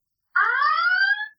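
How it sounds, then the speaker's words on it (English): An intruder alarm going off, a single sustained electronic wail with bright harmonics that holds steady for about a second before cutting off, loud and alone. "And then we get the intruder alarm going off."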